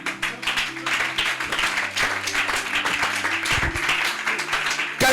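A church congregation claps together in a dense, sustained round of applause, loud and close, with voices calling out over the clapping.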